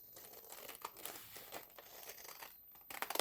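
Scissors cut paper for a handmade scrapbooking card, giving quiet close crinkling and snipping sounds in an irregular series that grow a bit busier near the end, with no talk.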